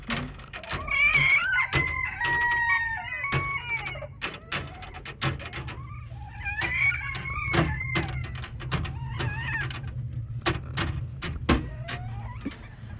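Chickens from South Carolina in a coop give scattered clucks and short squawks in several bursts, mixed with sharp clicks, knocks and rattles of nearby movement.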